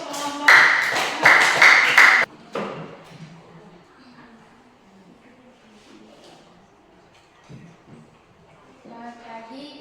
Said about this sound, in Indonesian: Kita berikan tepuk tangan ya.